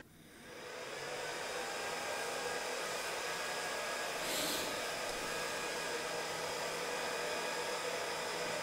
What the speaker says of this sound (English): The fans always go full speed on startup and then slow down.